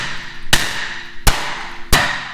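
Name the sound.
loud bang of a seized brake rotor coming off a BMW 335i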